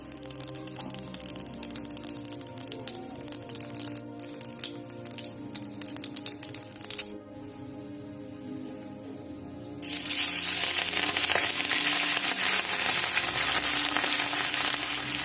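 Mustard seeds and cumin crackle and fry in a few spoons of hot oil, a steady close sizzle with dense popping that grows louder and brighter partway through, with no talk.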